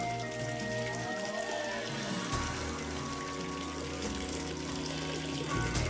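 Water running through an underground artificial channel and pipeline toward a castle, a steady soft rushing trickle with no voices, continuous and moderately distant.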